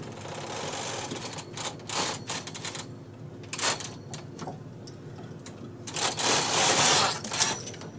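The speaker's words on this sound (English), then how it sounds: "hold it down underneath so I can knit across and it'll knit the ribber stitches" A Brother double bed knitting machine carriage knits across the ribber stitches with a close, loud mechanical clatter of rapid clicks and rattling bursts that build to a dense rush near the end.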